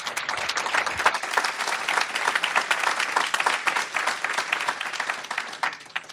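Audience at a food-and-sustainability panel event applauds the panelists, dense clapping with individual claps audible, steady then gradually thinning toward the end.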